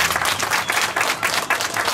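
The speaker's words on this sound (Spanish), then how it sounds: "Y este aplauso es para Dios y por todos ustedes." Applause from a crowd at a Quasimodo Sunday celebration, dense and steady clapping that fills the whole moment with no talk over it.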